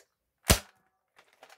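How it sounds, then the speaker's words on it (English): A single sharp gunshot-like crack, loud and close, followed by faint scattered clicks and rustles. "Pico, shoot him, please!"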